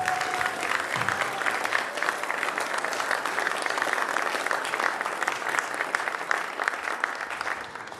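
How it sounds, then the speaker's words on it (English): Dense, continuous clapping from a large group at a sports awards banquet, even and energetic from start to finish, with a brief cheer near the beginning. "Round of applause for all conference players."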